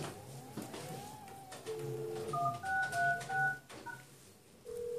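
Telephone keypad dialing 1636 sends a short series of distinct DTMF beeps, clear and close, followed by a steady tone, over faint room noise with no talking.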